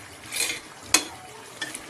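Duck adobo simmers in a pot with a soft, steady bubbling hiss, broken by one sharp utensil clink near the middle and a lighter tap near the end; no one speaks.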